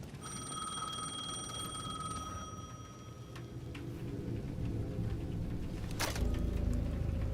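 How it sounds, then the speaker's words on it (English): A payphone ringing in the video game Alan Wake 2, a bright electronic ring tone sustained for a couple of seconds, then a sharp clunk and low rumbling ambience as it seems to be answered; no speech. "The payphone at the edge of the plaza was ringing again."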